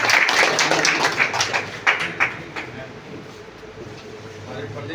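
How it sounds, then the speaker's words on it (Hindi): A crowd at a community rally claps loudly at first. The applause thins and fades to a quiet murmur over a few seconds. "चलिए जोरदार ताली से।"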